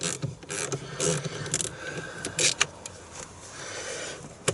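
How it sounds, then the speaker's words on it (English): A wrench spinning the 10mm nuts off the battery terminal leads on a Porsche Cayenne Turbo 955, a rapid, close ratcheting clicks in uneven bursts with brief metallic scrapes, no talking. "the battery leads are on with 10mm, so I'm just going to spin those off"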